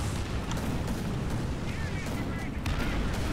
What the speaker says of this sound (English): Oh, we're encountering artillery fire.